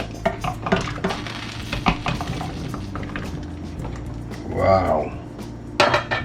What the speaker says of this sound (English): So it's about time to put in all our vegetables in the pot now.